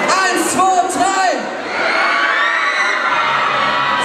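A rock concert crowd in Kassel shouts together on cue, a broad roaring yell that swells and holds for a few seconds, preceded by a performer's voice over the hall.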